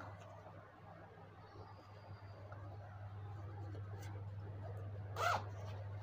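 A quick pull of the front zipper on a hoodie near the end, brief and close, over a low steady hum and faint rustling.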